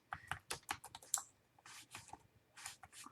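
Typing on a computer keyboard, bursts of quick, close key clicks in uneven runs with short pauses between them.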